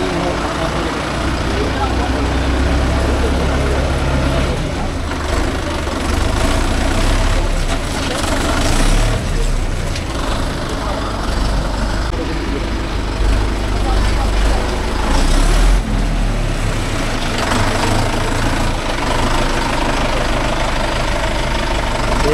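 A Mahindra Yuvo Tech Plus 585 4WD tractor engine runs steadily with a low, throbbing idle at close range, heard under ongoing conversation in Tamil.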